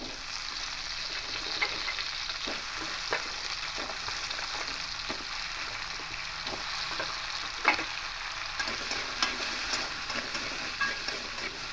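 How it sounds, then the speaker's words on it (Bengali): Cut potatoes fry in a little hot oil with a steady, dense sizzle, broken by occasional crackles and stirring clinks; no voices. "এবার কেটে রাখা আলুগুলো ভেজে নেব"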